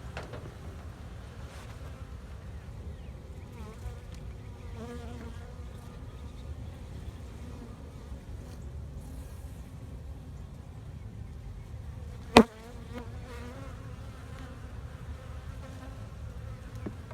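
Honey bees buzz around a hive during a spring inspection, a steady low drone of many wings close by, with one sharp knock partway through.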